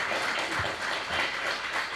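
Audience applause at a theatre event, a steady wash of many hands clapping for the full two seconds at moderate level, with no voices over it.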